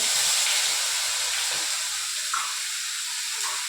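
Chopped tomato dropped into a hot pan with fried rohu fish hisses and sizzles in a loud, steady wash that holds throughout.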